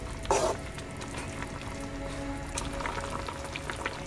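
Chicken curry simmers and sizzles softly in a frying pan while a spoon stirs through it, giving a faint, continuous bubbling with a brief clatter near the start.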